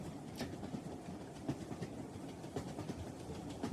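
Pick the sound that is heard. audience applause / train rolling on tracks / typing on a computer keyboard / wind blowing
train rolling on tracks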